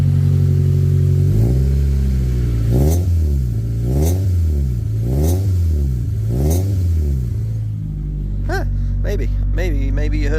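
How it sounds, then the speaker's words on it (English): The engine of a 1998 Toyota Celica GT revs up repeatedly from idle, rising and falling in four or five pulls with a rattle from the exhaust rubbing on the subframe, then settles back near idle. "Maybe you heard that little raspiness, the like really awful little rattle it did, because that's where it's rubbing on the subframe."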